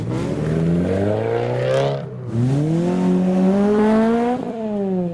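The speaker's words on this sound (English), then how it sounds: "The old Mazda 323" An old Mazda 323 at a car meet drives past close by, its engine note rising loudly as it accelerates, dipping briefly, then climbing again in a steady revving sweep with no talk.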